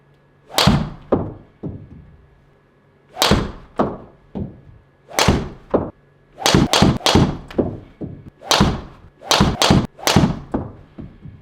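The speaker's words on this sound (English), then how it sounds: "That was the 10 shots with the G430 SFT straight flight." Ping G430 SFT straight-flight driver strikes on golf balls, sharp isolated impacts in a quiet space, about ten hits, some followed by short echoing knocks, spaced irregularly and close by.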